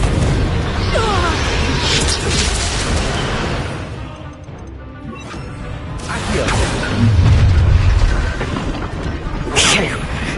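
The Confringo fire spell bursts in the game Hogwarts Legacy, with loud, booming blasts and crackling debris in several waves, mixed with in-game voices.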